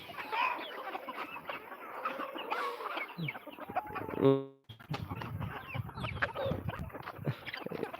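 A flock of chickens on a farm clucks and chatters steadily, many birds close by and overlapping in a busy, continuous murmur with a brief sharp electronic tone midway.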